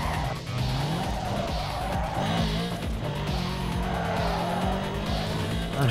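A Hummer H4 drifts through a curve in Need for Speed Underground 2, its engine roaring steadily while the tires squeal and skid in long, loud wails that repeat across the corner.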